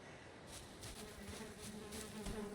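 Bees in the video game Valheim drone and buzz around their beehive, a soft, steady hum with small overlapping swells and no voices.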